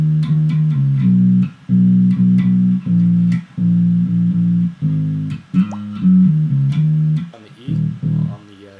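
An electric bass plays a bass line: a steady run of short, punchy low notes in repeating groups with brief gaps between phrases, loud, close and alone.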